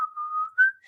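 A short whistled tune imitating the villain's whistle from the film The Wild Robot, one sustained note sliding up to a higher pitch, close and clear.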